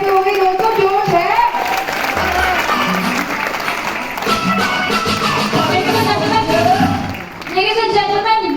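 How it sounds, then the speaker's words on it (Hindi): An auditorium audience at a business event in New Delhi claps loudly and continuously to welcome a speaker named Myra, with dense applause throughout and voices talking over it. "तो जोरदार तालियों के साथ में स्वागत करेंगे मायरा जी का।"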